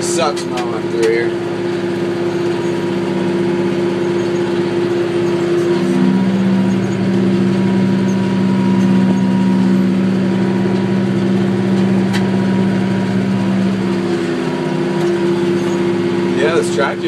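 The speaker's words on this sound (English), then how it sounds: "this tractor's done a really good job for us." McCormick tractor engine running steadily while bush hogging rough ground, a loud continuous drone with the mower's hum shifting in pitch midway, people talking over it.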